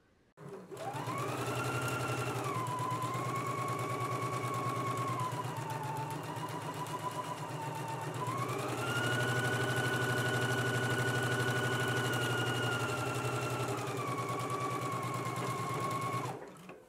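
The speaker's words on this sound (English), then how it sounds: "now we're just going to stitch in one continuous stitch, stitching the lining and stitching the main fabric" A domestic sewing machine runs in one continuous stitch through a bodice's lining and main fabric, a steady close motor whir with pitch shifting as speed varies, alone for about fifteen seconds.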